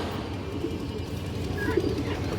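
A tota-type pigeon offered for sale coos softly and briefly, a low throaty murmur close by with no talk over it.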